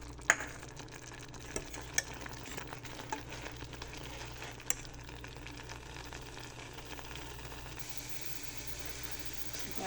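A wooden spoon stirs flour into choux paste in a saucepan, giving soft, close scraping and thick stirring with a few sharp knocks against the pan over quiet background hiss.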